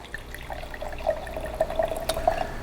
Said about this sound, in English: We'll pour the furthermost right glass straight from the bottle.